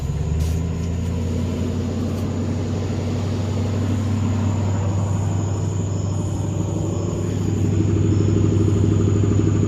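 An abandoned 1978 Chevrolet C10 with an exhaust leak, its engine running at a steady low idle, a continuous rough rumble heard up close with no talking.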